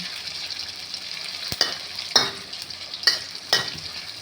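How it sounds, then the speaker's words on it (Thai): Bean sprouts stir-fried in a little oil in a pan: steady sizzling with four distinct scraping stirs of a spatula at irregular intervals, close and clear with no talking. "ก็เอามาคั่วน้ำมันนิดหนึ่งนะคะ เราไม่ทอดใช้น้ำมันเยอะนะ"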